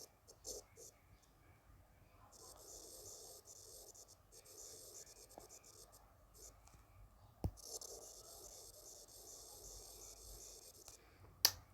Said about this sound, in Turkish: Kalem sesini umarım duyuyorsunuzdur.